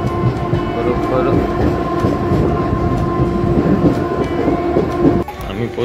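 A Mumbai suburban local train bound for Karjat, heard from on board, rumbles loudly and continuously with a low mechanical drone and rhythmic wheel clatter, swelling briefly near the end.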